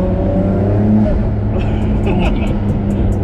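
A turbocharged Nissan Skyline R34 GT-R engine pulls hard under acceleration, a steady low drone with faint clicks and higher whooshes near the end, heard from inside the car with voices present.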